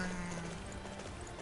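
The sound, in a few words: horse hooves clip-clopping in video game Dynasty Warriors 9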